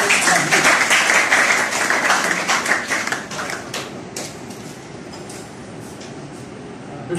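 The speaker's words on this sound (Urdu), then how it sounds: "آپ کی تالیوں میں تشریف لاتے ہیں جناب محترم راشد محمود." Audience applause at a book launch ceremony at a university hall, dense and sustained clapping that gradually thins and softens toward the end.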